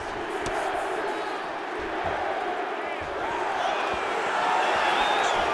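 Arena crowd at a UFC fight at the Apex cheers and applauds steadily after a grappling exchange, a dense roar of voices with shouts, sustained and swelling slightly toward the end.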